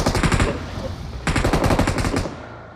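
Rapid automatic gunfire in PUBG Mobile, loud and sustained, with two long bursts of closely spaced shots separated by a short pause.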